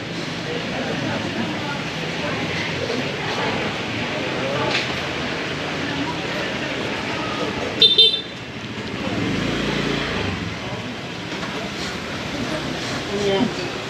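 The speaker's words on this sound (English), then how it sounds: "Honking the horn means get out of my way." Car horns honk on a busy street in Hanoi's Old Quarter, with one sharp, loud blast near the middle standing out over a steady wash of traffic and motorbike noise.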